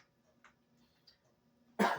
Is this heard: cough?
yes